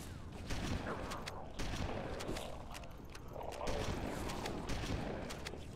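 Gunfire in the Halo video game: dense, continuous volleys of shots crackle throughout, with steady battle noise and no clear pauses.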